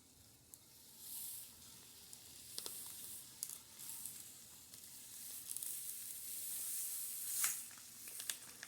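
Quiet bubbling and hissing of boiling water with small pops and crackles, steady and close, no talking.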